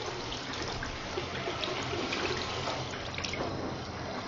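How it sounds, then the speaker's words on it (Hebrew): Water poured over fresh plant stems to rinse them, a steady running splash and trickle continuing close by and fairly loud without pause. "לשטוף אותם בוודאי, לשפוך עליהם מים, לרענן אותם קצת."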